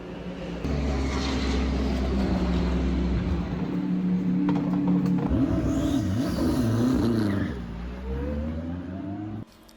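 Onboard a race car at the Nurburgring during a setup and tyre run, the engine droning loud and steady with gear changes and rising revs before backing off and fading near the end.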